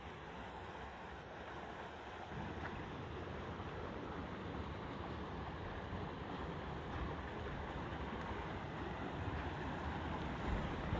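A river flowing near a mountain slope, a steady broadband rush of water mixed with wind buffeting the microphone, constant and fairly faint with no voices.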